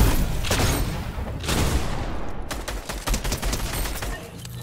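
Rapid bursts of gunfire in a 3v3v3v3 building shooter game, dense overlapping shots and cracks in quick succession, loud and close throughout.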